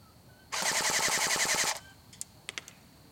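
A Colt M4A1 carbine airsoft gun firing full auto, a rapid even burst of about a second of mechanical clattering shots, close and loud, followed by a few sharp clicks after the magazine runs dry.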